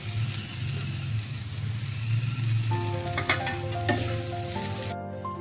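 Bitter gourd stir-fry fries in a pan with a soft, steady sizzle and low rumble, followed by a few light metallic clinks near the end; no one speaks.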